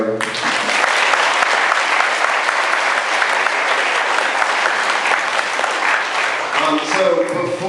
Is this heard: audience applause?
yes